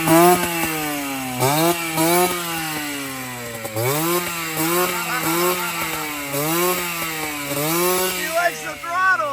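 Revving engine of a 1982 MB5 motorcycle, its pitch sweeping up and down in repeated throttle blips, loud and close, with people talking over it.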